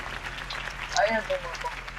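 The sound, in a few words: crowd applause in Batman video game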